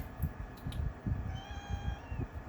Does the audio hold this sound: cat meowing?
yes